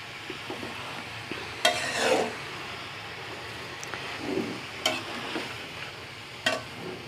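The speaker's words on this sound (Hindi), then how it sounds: "थोड़ी थोड़ी देर बाद मैं आके इसमें चमचा चलाती रहूँगी" A spoon stirs sarson ka saag (mustard greens) in a pot. Several scraping strokes arrive at intervals over a low, steady simmering hiss, with no talk.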